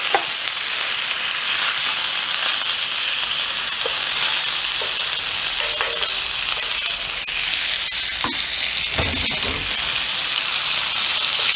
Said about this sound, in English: Whether you can hear it sizzling up or not.